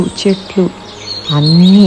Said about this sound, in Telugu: పక్షులు చేసే కిలకిలలు